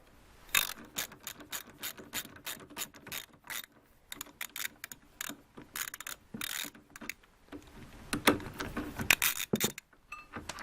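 A 16 mm ratchet wrench loosens the steering tie rod nut on a Renault Clio 2 phase 2. It gives rapid, close metallic clicking in repeated short bursts with brief pauses between strokes.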